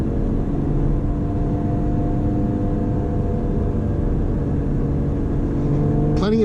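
Cabin drone of a supercharged Lotus Evora GT on the move, a steady engine hum layered with road rumble and tonal whine, constant and close, ending in a short rising whir.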